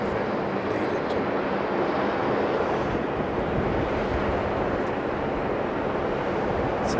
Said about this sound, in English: So that's how strong this wind is.